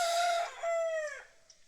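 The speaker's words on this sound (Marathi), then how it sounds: "सकाळचा कोंबडा आवाज देतोय" A rooster crowing at dawn in Salher village below Salher Fort in Maharashtra, one clear drawn-out crow heard close and alone, fading at the end.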